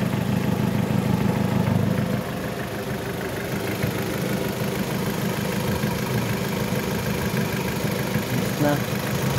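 A steady engine idles and hums loudly and continuously after a new fan has been fitted, and a rougher low rumble drops away early on.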